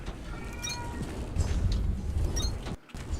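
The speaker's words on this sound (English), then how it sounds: "So that cat that you hear" A cat meows a few times in a room, soft and mid-distance, over a steady low hum of game music and machine noise, ending with a brief drop to near silence.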